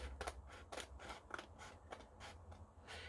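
Scissors cut along the edge of a paper page coated with Mod Podge, giving a steady series of faint, crisp snips about every half second, close and quiet.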